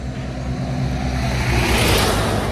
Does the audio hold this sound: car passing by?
yes